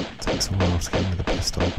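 Pistol shots at a dinosaur in the Tomb Raider 2 video game: about four or five loud, sharp cracks in an even rhythm over a low rumbling background.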